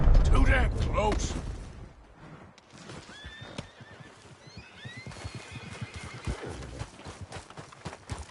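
Horse whinnies loudly at the start of a Red Dead Redemption 2 game scene, followed by steady clip-clop hooves and faint whistling bird-like calls over open-country ambience.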